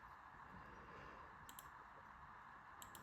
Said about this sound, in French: je clique 2 fois